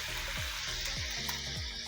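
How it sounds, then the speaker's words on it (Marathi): Soaked urad dal, still holding some water, drops into hot oil and sizzles with a steady, dense hiss and bubbling crackle throughout, close by and with no voices. "आता ती ह्या त्याच्यामध्ये तापलेल्या तेलात टाकूया"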